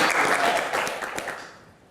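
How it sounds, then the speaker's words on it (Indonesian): A Q&A audience breaks into a short burst of clapping that is fairly close and then fades out within two seconds. "tepuk tangan"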